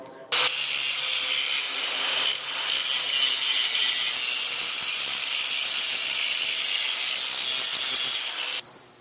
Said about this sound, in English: Step 2 is to completely grind all the paint off the end of the auger.